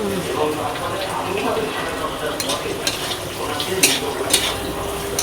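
Potatoes fry with turmeric in a pan, a moderate sizzle with stirring and a few sharp scraping clinks near the end, while someone talks nearby.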